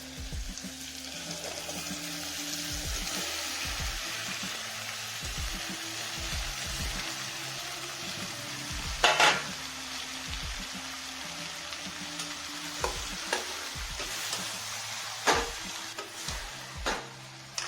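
Ridge gourd and tomato curry fries in a pan with a soft, steady sizzle, broken by occasional clinks and scrapes of stirring, with no one speaking.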